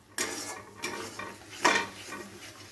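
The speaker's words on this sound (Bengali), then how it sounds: "তো এবারে একটু গ্যাসের ফ্লেমটাকে জোরে করে দিয়ে কষিয়ে নেব" Katla fish in a poppy seed and cashew gravy is stirred and sautéed in a pan over a high gas flame, with a few distinct scraping spoon strokes over a soft, steady sizzle.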